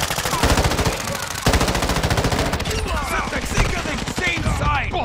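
Sustained automatic gunfire from Call of Duty MW2 DMZ rattles out in rapid, loud bursts, with a brief gap before the shooting resumes, while muffled radio-style chatter sits underneath.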